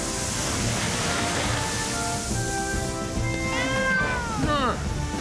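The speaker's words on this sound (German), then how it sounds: "Sam, die Katze ist ja noch da drin." A cartoon cat meows from inside a burning house, a few rising, plaintive meows over steady hissing background noise toward the end.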